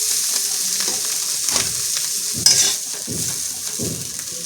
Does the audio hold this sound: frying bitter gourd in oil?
yes